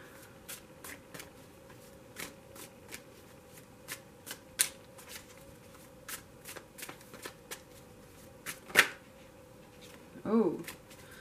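A tarot card deck is shuffled close by in a quiet room, with repeated quick riffling flutters at an uneven rhythm and a brief soft vocal sound near the end.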